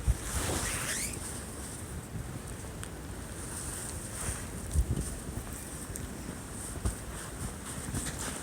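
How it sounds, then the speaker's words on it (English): Strong blizzard wind of around fifty miles an hour roars steadily against the microphone, a constant rushing buffet with occasional harder gusts and thumps, no one speaking. "Oh my god, it's so windy."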